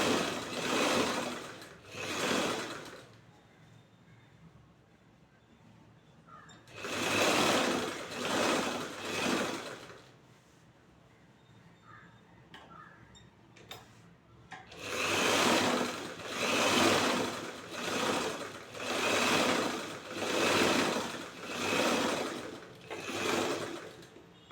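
A sewing machine stitches a blouse in three bursts of fast, even stitching with pauses between them. The later run is the longest, with a steady pulsing rhythm. It is close and clear, with no talk.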